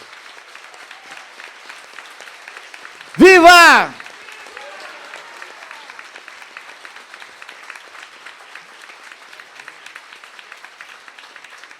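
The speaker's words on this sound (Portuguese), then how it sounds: "Vocês merecem uma grande salva de palmas a esses 2 grandes advogados." An audience at a metalworkers' union event gives sustained, even applause honouring two labour lawyers, with a loud shouted cheer rising over the clapping partway through.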